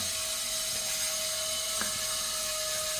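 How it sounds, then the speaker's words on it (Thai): A steady mechanical whine over constant broadband noise from nearby construction at a house, with one brief knock partway through. "ทางบ้านของผมมีกำลังก่อสร้างอะไรสักอย่าง เสียงโคตรดังเลยนะครับ"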